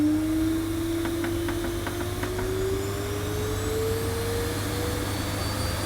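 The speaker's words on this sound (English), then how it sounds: "for a supermarket vacuum cleaner, that's its maximum suction setting" A budget supermarket bagged vacuum cleaner at maximum suction setting drones loudly and steadily with a rising whine, and a few faint clicks come early on.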